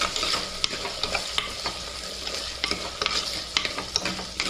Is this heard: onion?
yes